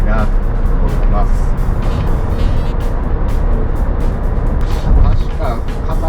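A Suzuki Jimny XC (JB64W) drives along the road with a steady engine and road rumble inside the cabin. Someone talks continuously over the driving noise.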